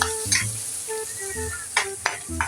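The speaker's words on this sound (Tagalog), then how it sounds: "ginigisa na natin ng luya, bawang, sibuyas" Ginger, garlic and onion sauté in hot oil at an outdoor outpost camp. The sizzling is close and steady, broken by a few quick scraping stirs of the utensil against the pan, with no voices.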